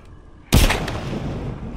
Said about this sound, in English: That was a big explosion